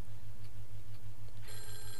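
A telephone rings in the horror video game Clock Tower, a steady repeating ring pulsing under the game's background ambience, with no speech.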